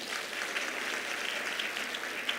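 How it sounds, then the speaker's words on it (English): Applause from the audience for a keynote speaker at a women's health and wellness event, a continuous crowd of hands clapping at moderate, even loudness with no talking. "Let's give her a round of applause."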